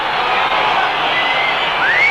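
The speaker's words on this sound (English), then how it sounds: "Oh boy, the crowd don't like that." Rugby stadium crowd at a 1991 Buenos Aires versus All Blacks test match, reacting to a disputed try with a steady, loud roar of many voices and one rising whistle near the end.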